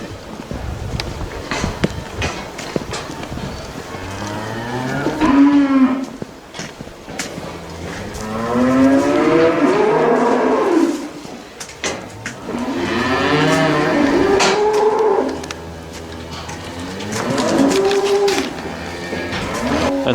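Dairy cows at a college farm moo repeatedly, long drawn-out calls that overlap and recur every few seconds, loud and close, with faint footsteps and shuffling between them.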